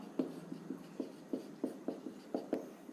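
Writing on a classroom board during a lesson, a close series of about a dozen short, evenly spaced strokes and taps heard alone.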